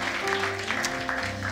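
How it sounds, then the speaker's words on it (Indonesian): A worship congregation at a night service claps together in a dense, continuous wash of applause, with a sustained tone running underneath, throughout the brief moment. "Ayo tepuk tangan dulu buat Tuhan kita."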